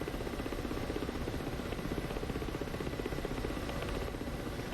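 Ka-50 Black Shark helicopter engine and coaxial rotors in the DCS flight simulator, a loud, close, steady turbine drone with fast pulsing rotor chop throughout, no voices.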